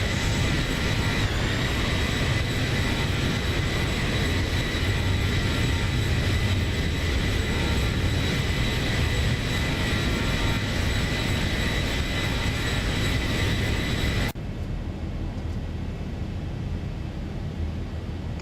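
Engine noise from an Aeroflot Boeing 737-800NG in the X-Plane flight simulator is a loud, steady roar with a high whine that runs unbroken, then shifts to a slightly quieter tone near the end.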